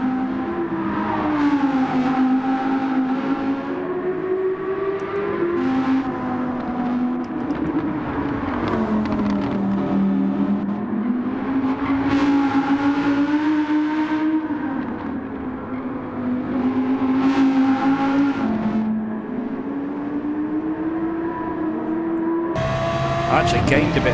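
Race car engines in Gran Turismo 7 online daily racing, a steady loud whine rising and falling through gear shifts and corners, with someone commentating over it throughout.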